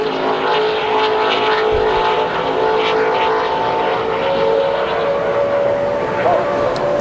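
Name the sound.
NASCAR Nationwide race car on track during qualifying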